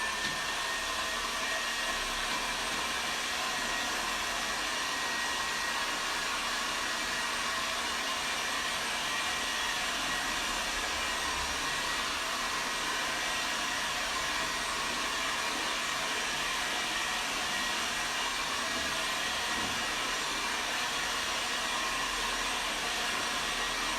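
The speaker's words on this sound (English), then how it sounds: "Let's give it a quick blast with the hairdryer" A hair dryer blows steadily and loudly, drying paint on an Easter bunny painting with dandelion seed heads, a continuous broadband whoosh running unbroken for the whole stretch with no talking.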